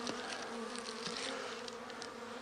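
Honey bees in a wintering hive packed with capped honey, a dense, steady buzz of many bees heard close up, continuous and alone without talk.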